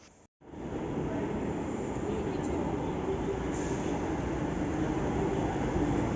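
A steady, loud rumble of a Delhi Metro train running on the Samaypur Badli line, continuous throughout after a brief silent moment at the start.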